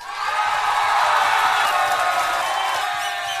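A crowd cheering sound effect plays on a podcast, a loud, steady roar of whoops and cheers swelling over a few seconds and easing off slightly at the end.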